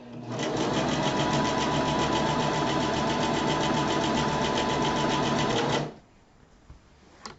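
A sewing machine stitches pillow fabric in one continuous, loud, fast whir of the needle for about six seconds, then stops abruptly, leaving faint handling noise and no talk.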